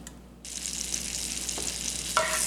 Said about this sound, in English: Over medium heat, let's melt our butter and add our oil.